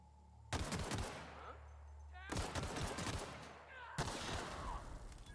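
Gunfire from The Outer Worlds on PC: three loud, close bursts of rapid shots, each followed by echoing decay and short pauses between volleys.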